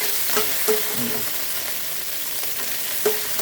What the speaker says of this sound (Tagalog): sa same pot guys, mag-gisa na tayo. Isa natin yung sibuyas, bawang tsaka luya.